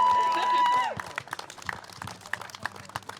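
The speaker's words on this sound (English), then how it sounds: "Let's give her another round of applause." Audience clapping at a Race Amity Day and Human Rights Youth Hero Awards event, starting with a sustained tonal note under the opening second, then scattered, uneven claps continuing steadily at moderate volume in a hall.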